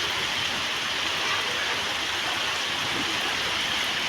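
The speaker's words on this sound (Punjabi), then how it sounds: "ਸ਼ਾਲੀ ਵੀ ਮੀਂਹ ਦਾ ਆਨੰਦ ਲੈ ਰਹੀ ਹੈ" Steady, heavy rain pours down continuously, a dense, even hiss of water falling on surfaces with no pauses and no voices.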